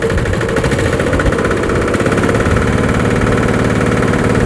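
A Yanmar YH80 walk-behind tractor engine runs hard in second gear with its rotary tiller in first, a loud continuous chugging mechanical drone with rapid rhythmic pulsing, close by and without talk.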